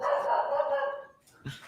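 A dog barks and yips indoors in an apartment, a fairly loud close burst of sound lasting about a second, followed by a short pause and another brief sharp bark.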